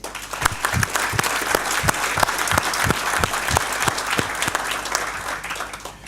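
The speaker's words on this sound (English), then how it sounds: "please join me in giving her a round of applause" Audience applause at a bar association annual meeting, a room of people clapping steadily and moderately loud, with a few sharper individual claps standing out from the even patter.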